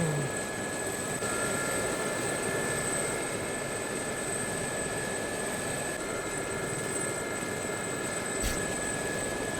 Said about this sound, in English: Could barely take off this chopper.